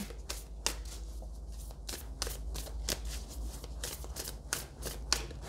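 Tarot cards are riffled and shuffled by hand in a quick, steady run of crisp snapping flutters, close and clear, with no talking.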